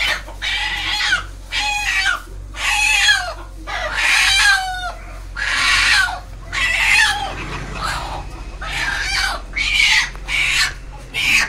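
A rooster in a Konkan village yard clucks and crows close by, long strained crowing calls alternating with shorter clucks in regular bursts across the whole stretch, with no voices.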